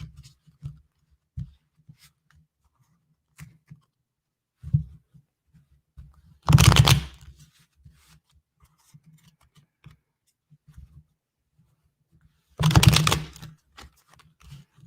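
Tarot cards are shuffled during a live reading: soft scattered taps and ticks with two longer, louder riffling bursts roughly six seconds apart, close, with no talking.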